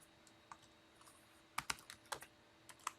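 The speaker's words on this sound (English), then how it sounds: "now I'm going to come over here and I'm going to type in contact" Typing on a computer keyboard; faint, irregular clicks and taps in short bursts, close and quiet against a soft background hiss.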